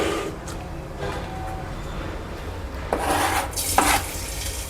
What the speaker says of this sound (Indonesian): Tumis pakai bawang ya.